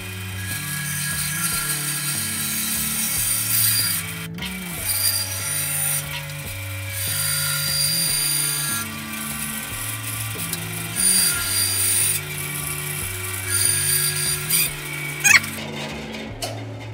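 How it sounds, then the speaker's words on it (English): A bandsaw cuts through the wooden handle of a scratch awl, giving a close, rhythmic mechanical whirring with repeated low tonal pulses and a sharp click near the end. "we'll go over to the bandsaw and cut off our"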